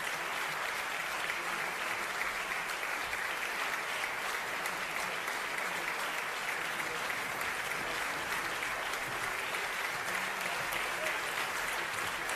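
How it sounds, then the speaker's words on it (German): Applause in the Margravial Opera House in Bayreuth after an opera arias concert, a sustained, even roar of many hands clapping that fills the hall without pause. "Beifall hier im markgräflichen Opernhaus Bayreuth. Sie hören es auf der Bühne."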